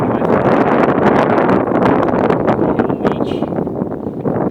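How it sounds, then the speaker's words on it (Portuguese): Strong wind buffets the microphone on a fishing outing, a loud, continuous roaring rumble with gusty crackles that never lets up. "Devido a esse monte de vento aí, até o áudio vai ficar."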